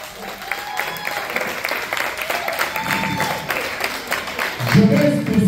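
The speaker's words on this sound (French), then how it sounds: "Est-ce qu'on va applaudir pour eux?" Applause from an audience at a volunteer appreciation celebration in Val d'Or, for the organizing committee. Scattered clapping continues under a background voice and swells briefly near the end.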